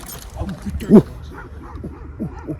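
A dog gives a few short yips and barks amid nearby people talking and background chatter.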